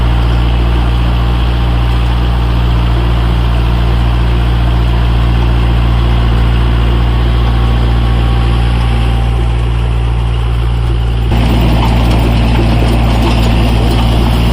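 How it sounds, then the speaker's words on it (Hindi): A Kubota MU4501 four-wheel-drive tractor engine runs loudly and steadily at close range during field work, a constant deep diesel drone with no break over the whole stretch. "ये ट्रैक्टर की पिटाई देखो, 4 व्हील का कमाल।"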